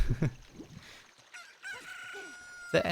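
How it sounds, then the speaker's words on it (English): A cartoonish rooster crows in Zelda: Ocarina of Time at Hyrule Castle, a bright, stretched cock-a-doodle-doo in the middle, framed by clucking and squawking game sounds and a sharp burst at the end. "The chicken already hatched."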